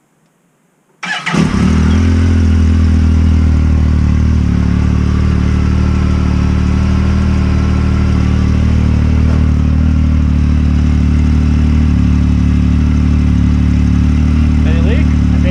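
A Yamaha YXZ engine fitted with a Silber turbo cranks and fires after a second of quiet, then settles into a loud, steady, rumbling idle with a rough mechanical clatter, close to the machine.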